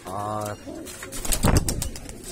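A pigeon at a Bhopal pigeon keeper's loft gives a clear, close coo, followed by a brief pause and then someone speaking.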